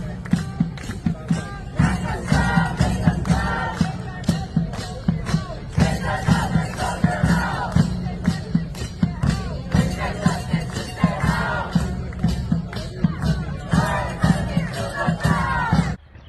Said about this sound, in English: You hear what they are chanting.